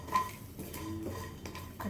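Spices being stirred in a pan while cooking rendang, with soft scraping and light clinks of a utensil against the pan over quiet kitchen background.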